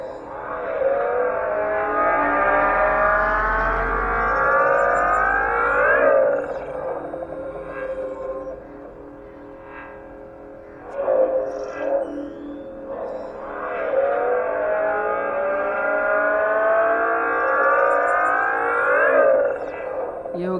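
Synthetic drive-mode sound effect from an OLA S1 Pro electric scooter, a loud rising and falling siren-like whine that sweeps up and down in two long bursts with a quieter gap between them.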